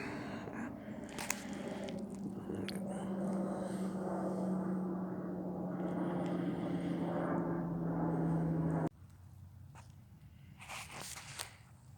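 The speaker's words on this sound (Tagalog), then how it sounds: "May dumadaang eroplano, hindi ko makakita sa kapal ng ulap." A propeller airplane passes overhead above thick cloud on a cold day, its steady engine drone holding for about nine seconds before cutting off, leaving quieter outdoor ambience with faint crunching.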